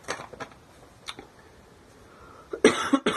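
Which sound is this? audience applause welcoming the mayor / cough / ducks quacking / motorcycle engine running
cough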